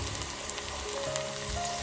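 Onion and tomato fry with red chilli masala in a pan, a steady, gentle sizzle with faint pops and no talking.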